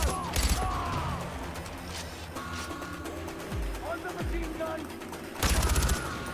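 Automatic machine gun fire in Far Cry 4, sharp dense bursts at the start and the end with mechanical clatter and game effects between, while someone talks over the action.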